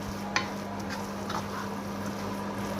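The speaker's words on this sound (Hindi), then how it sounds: "अब हम इसके अंदर मैदा ऐड करेंगे जो हमने 2 टेबलस्पून लिया था। हम अच्छे से मिक्स करके अच्छे से पका लेंगे इसको।" A spoon stirs flour into a cooking resha kebab mixture in a pan, soft scraping strokes with a couple of sharper clinks over a steady low sizzle and hum, no talk.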